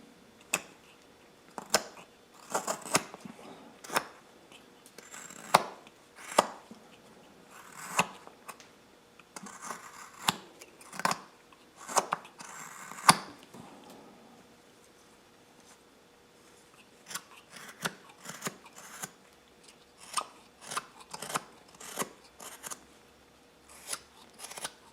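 Wood being worked to take off its sawn surface, heard as a string of short, crisp scraping or cutting strokes in irregular bursts, with a brief pause partway through.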